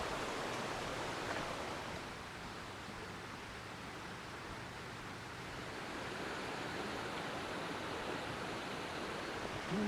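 Stream water rushing steadily through Flume Gorge, a granite gorge in New Hampshire, in September, a continuous broadband wash that is close and even in loudness throughout.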